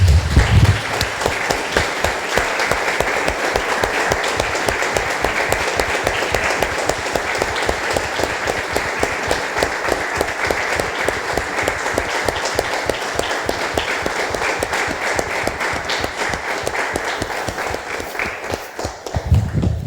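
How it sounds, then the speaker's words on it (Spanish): Church congregation breaks into sustained, loud applause that runs steadily for the whole stretch with no voices over it. "Damos un aplauso, hermanos, al Señor."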